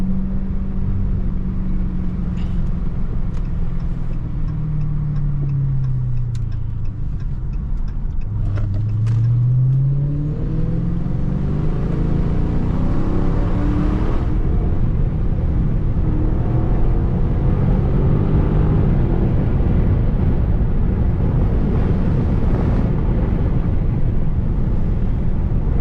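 A Dodge Charger Scat Pack widebody cruises close by with a deep, steady engine rumble, and its pitch sweeps up and down through several revs and gear changes over continuous road noise.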